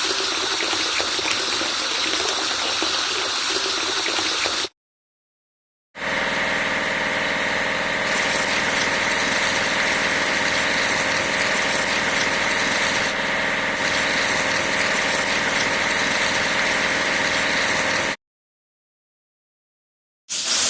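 A hovercraft engine idles steadily in a vehicle-washing game, its drone mixed with gushing water spray, loud and continuous, cut by two brief silences.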